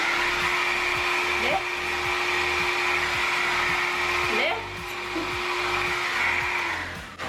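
A hair dryer fitted with a diffuser drones steadily and loudly while drying curly hair, holding a constant pitch throughout with brief shifts as it is moved, then cutting out near the end.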